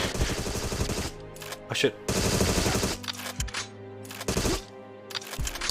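Rapid bursts of video game gunfire crackle loudly in several sharp volleys separated by short pauses, with a voice exclaiming between them.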